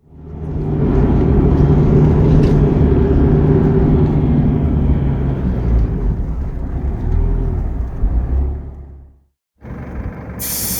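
Off-road vehicle cruising straight across the dry bed of Gravity Lake, its engine and tyre rumble loud and steady for about nine seconds before a brief cut to silence, then resuming.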